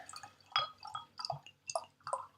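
A Scotch barrel-aged imperial stout, matured in Speyside whisky casks, is poured into a glass. A few short splashy gurgles and drips come in uneven bursts, close and fairly quiet, with no one speaking.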